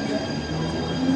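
A local train departs Dehu Road station with a steady rumble of rail cars and a thin wheel squeal rising near the end, heard from nearby without talk.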